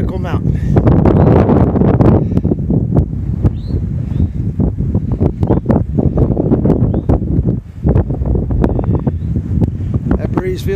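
Strong wind buffeting the microphone on the summit of Pinnacle Mountain in Virginia, a continuous loud roaring rumble with gusty surges throughout and no voices.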